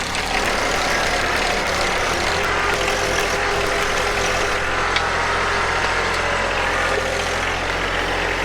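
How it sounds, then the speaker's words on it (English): A box blade drags dirt across a homestead building pad behind a steadily droning heavy engine, loud and continuous throughout, with no talk. "I can pull a bunch of dirt over here with this box blade"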